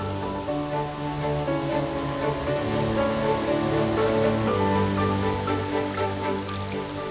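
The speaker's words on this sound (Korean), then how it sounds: "얼었던 계절을 털어내듯 쏟아지는 폭포수." Jeinpokpo waterfall, about 18 m high, pouring in spring in the DMZ region: a continuous broadband rush of falling water, steady and fairly close, with layered music over it and no talk.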